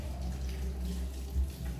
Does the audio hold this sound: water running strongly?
yes